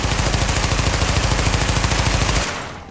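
Rapid automatic gunfire from an MP5 submachine gun in the video game The Division, a continuous burst of evenly spaced shots, loud and close, stopping abruptly near the end with a brief ringing tail.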